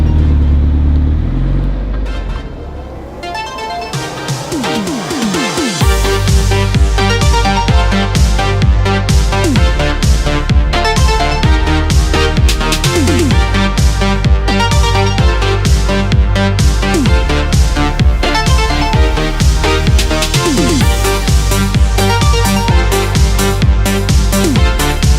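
Engine of a 1994 Suzuki Alto Works kei car, a quiet idle rising through sweeping revs, then a loud, steady, buzzing drone that holds to the end.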